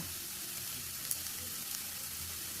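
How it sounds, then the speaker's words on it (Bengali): A potato and onion fry (aloo bhaji) sizzles steadily in a pan, a close, even hiss with only a couple of faint clicks from stirring, and no talking. "আর একটু নাড়াচাড়া করে আমি নামাই নিব।"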